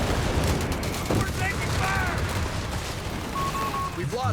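A Whiz-bang rocket barrage in Company of Heroes 3 rumbles steadily with scattered bangs and crackles. Whistling rockets sweep in over the din, and faint voices come and go beneath it.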